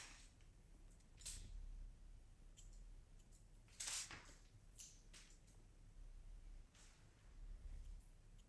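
Scissors snipping hair while trimming a soft pixie cut, a steady run of small close metallic snips and clicks spread irregularly over several seconds, quiet with no talking.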